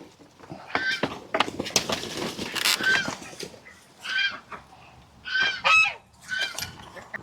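A flock of geese honking loudly and close by, with repeated bursts of overlapping calls in uneven clusters separated by brief pauses, no other sound competing.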